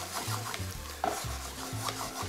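Spoon stirring red wine into a pork ragu in a pan, giving quiet close scraping and rubbing strokes in a loose rhythm with a soft sizzle underneath and no talking.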